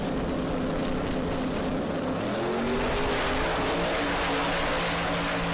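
Drag race cars roar side by side down the SRCA Dragstrip in Great Bend, Kansas, a loud, sustained engine blare with rising pitch that fills the scene and has no talk over it.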